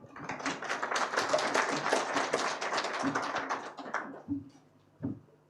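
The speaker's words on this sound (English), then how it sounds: "Another round of applause for Balozi Josephat Maikara" An audience at a foreign service academy event gives a round of applause, a dense, even patter of clapping that holds steady for about four seconds, then thins out and stops, with a few stray claps after.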